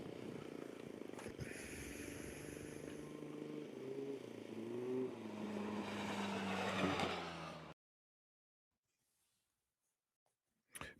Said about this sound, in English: Pretty amazing how different some of these cars sound as well.